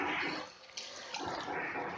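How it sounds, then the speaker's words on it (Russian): Tap water runs steadily at close range as hands are wetted before kneading wheat sourdough bread dough, a continuous splashing hiss that briefly dips and then returns. "Я смачиваю руки."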